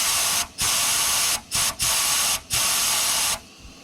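Sandblast cabinet gun blowing compressed air through its hose with no sand, loud steady hissing bursts repeatedly cut off by brief trigger releases, then falling quiet at the end.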